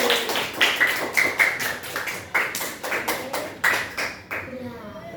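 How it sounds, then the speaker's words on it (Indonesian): Elementary-school pupils in a classroom clap in a quick rhythmic pattern of sharp bursts that repeat steadily for several seconds, with voices mixed in. "tepuk tangan untuk diri kita masing-masing."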